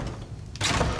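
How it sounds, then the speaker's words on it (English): A door shuts in the Skyrim video game, a single broadband thump after a quieter stretch, heard close and alone with steady low room noise around it. "Close the door."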